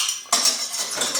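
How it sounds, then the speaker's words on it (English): A metal utensil scrapes and clinks against a pot or bowl while white miso is stirred into hot dashi broth, close up and brief, with no talking. "I'm mixing the white miso with that hot broth just to form more of a paste"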